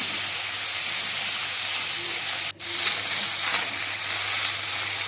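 Small mola fish fry in a little hot oil in a wok, giving a loud, steady close hiss that cuts out for a brief moment midway before resuming.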